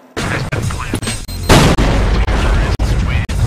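Loud booms and bursts from Counter-Strike gameplay come in a quick, uneven series of blasts and pops, sounding close and heavy.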